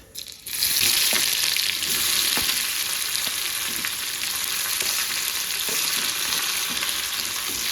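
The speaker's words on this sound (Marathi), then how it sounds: "कांद्याला थोडं परतून घेऊ आपण लाल होईपर्यंत." Curry leaves and chopped onion, added after cumin to hot oil, fry with a loud, steady, close sizzle that begins abruptly and continues evenly with faint stirring scrapes.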